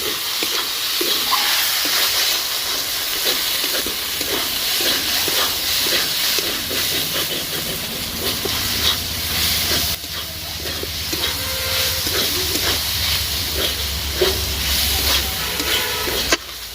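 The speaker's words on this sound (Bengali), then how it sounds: "এটাকে এবার আমি ভালো করে ভাজা ভাজা করে" Chicken keema with brinjal fries in a pan, giving a continuous loud hiss and sizzle with steam that holds steady throughout and swells slightly near the end.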